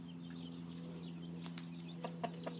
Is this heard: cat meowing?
no